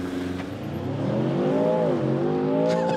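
A 2024 Range Rover Sport SV P635 launches hard under launch control, its engine note climbing steadily through the rev range in one loud, close run, with a brief gearshift dip midway and no talking.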